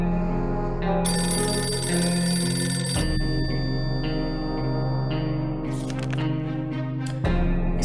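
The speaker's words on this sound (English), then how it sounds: "suddenly a phone starts ringing from somewhere outside" A telephone rings repeatedly in the video game 60 Seconds, a bright electronic bell trilling in bursts from somewhere outside a shelter in a radioactive ghost town, steady and fairly loud over game ambience.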